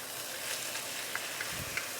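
Chicken and mushrooms frying in a pan with a steady low sizzle, broken by a few soft scrapes and taps as the pieces are stirred.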